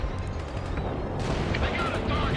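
Heavy gunfire in the real-time strategy game World in Conflict, a dense, continuous rattle of shots and bursts that holds steady throughout, with voices heard over the combat.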